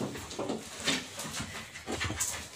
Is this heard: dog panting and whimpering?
yes